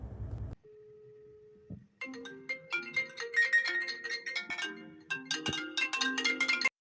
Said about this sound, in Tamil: ஐஃபோனுடைய ரிங்டோன் பிடிக்கும் அப்படின்றதால சாம்சங்கில் அதை வச்சுருக்கேன்